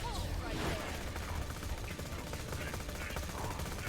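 Rapid gunfire in a video game, bursts of shots crackling steadily under a speaking voice, fairly faint overall.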